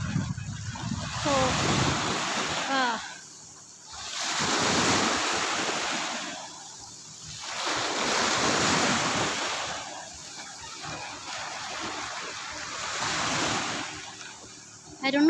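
Beach waves roll in and wash up in four or five broad surges, each swelling and fading under steady wind buffeting the microphone, with voices heard faintly at the start.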